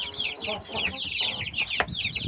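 Several roosters and chickens cluck and chatter in quick overlapping bursts, close by, with soft background noise throughout.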